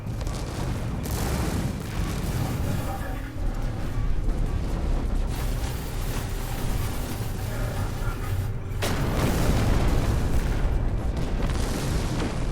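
A spaceship is destroyed during combat with Sentinel ships near a freighter in No Man's Sky, heard as a sustained, loud roaring rumble of blasts and engine noise that dips briefly before surging again.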